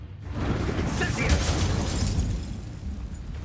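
In the Hogwarts Legacy video game, an Incendio fire spell erupts in a loud whooshing burst of flame with crackling impacts, and the player's voice sounds over it.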